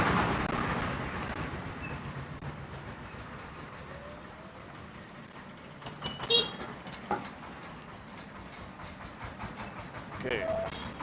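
Small remote-controlled model diesel switcher locomotive running, a rumbling rolling drone with scattered clicks and brief squeals, heavier at the start and fading, with faint voices around it.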